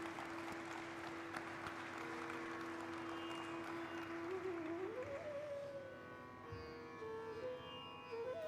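Applause from the audience at the Orkla India Limited listing ceremony runs steadily throughout, fairly soft and under a sustained musical tone.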